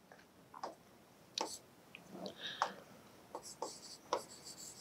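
Formulas for an indefinite integration lesson are written out by pen or chalk in short, soft scratching strokes that come in quick irregular bursts with brief pauses between them, quiet and close, with no talking.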